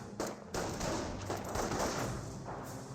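Rifle volleys and gunfire in a Company of Heroes 1 match between US and Panzer Elite forces, a dense rattle of overlapping shots sustained for about three seconds at steady loudness.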